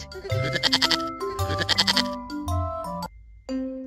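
A goat bleats in a children's alphabet song, with several wavering, quavering calls spread across the clip. They sound close and loud and are set over bright musical accompaniment.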